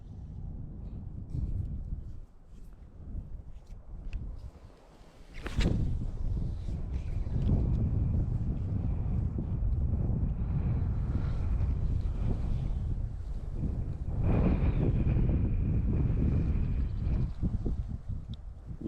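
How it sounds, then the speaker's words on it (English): Strong gusting wind buffets the microphone on open water from a fishing boat during a bass trip, with rushing bursts and a few knocks and clunks. "Not with that wind kicking up like that."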